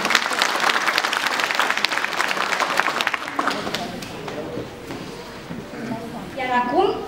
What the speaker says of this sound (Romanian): Vă rugăm aplauze!